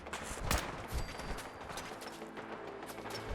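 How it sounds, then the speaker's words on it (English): Gunfire from hostile gunners in Fallout 4, a dense fusillade of sharp shots with a couple of louder bursts near the start, followed by continuous rattling fire throughout. "I'm being shot right now"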